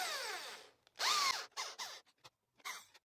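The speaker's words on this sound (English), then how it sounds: "Now, I will use the manual drill with a 15mm Forstner bit. This part of the wood will be drilled." Short, separate bursts of a manual drill turning a 15mm Forstner bit into reclaimed wood, close and fairly quiet, with squeaky rising and falling tones between brief pauses.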